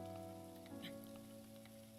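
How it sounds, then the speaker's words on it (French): Rain falls in The Legend of Zelda: Breath of the Wild, a soft, faint patter spread under steady sustained musical tones. "Et il pleut."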